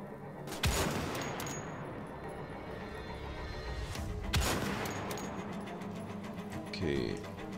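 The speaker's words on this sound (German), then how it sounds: "Maschinengewehr" Machine gun fire in the video game Wolfenstein: The Old Blood, with several loud bursts standing out against a busy, noisy game soundscape.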